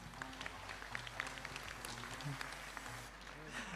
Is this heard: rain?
no